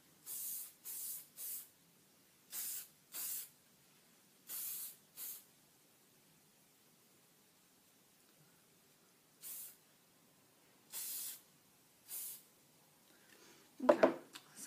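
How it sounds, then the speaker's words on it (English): Short bursts of hairspray hiss onto a sponge-set hairstyle, about a dozen quick sprays in irregular clusters separated by quiet pauses, close by, with a brief rustle at the end. "I'm going to take my hairspray and I'm going to spray it."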